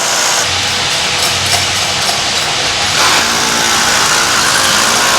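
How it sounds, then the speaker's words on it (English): A hammer drill drives anchor bolts into place to support fabricated 6x6 steel tubing, a loud, constant grinding drone that carries on without a break and shifts slightly in pitch partway through. "hammer drilling the bolts into place"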